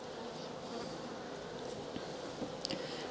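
Honey bees buzz steadily inside an Abelo polystyrene hive, a soft continuous drone with faint, brief higher-pitched flits near the end, no voices.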